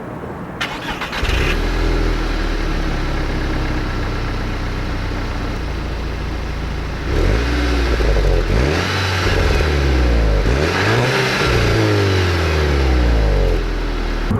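A 2011 Volkswagen GTI engine with stock muffler and resonator starts and idles, then revs up hard twice in rising and falling surges, loud and close with no talking.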